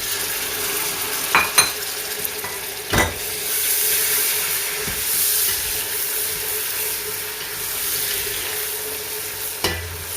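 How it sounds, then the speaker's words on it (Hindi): Tomatoes and green chillies fry in a garlic masala, a steady broad sizzle close by with a few stirring knocks and scrapes scattered through. "अब मैं इसमें डालूँगा ये टमाटर और हरी मिर्च।"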